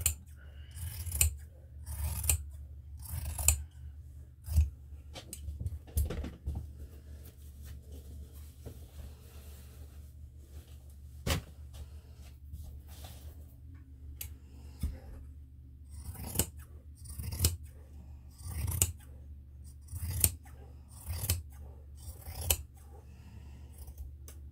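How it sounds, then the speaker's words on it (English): Scissors snip steadily through fabric in long, regular cuts, each a soft crisp crunch, repeated many times at close range with quiet pauses between. "I'm using the entire blade of my scissors."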